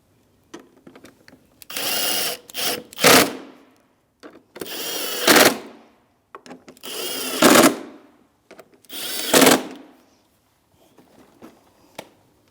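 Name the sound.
7mm socket tightening bolts on a Chevrolet Malibu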